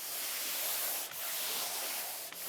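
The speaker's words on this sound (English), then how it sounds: "We're going to sand with a little bit of pressure, but not too much." Steady, close scratchy rubbing as sandpaper held flat by hand is pushed across a freshly painted interior wall with light pressure, continuous for a couple of seconds with two brief dips.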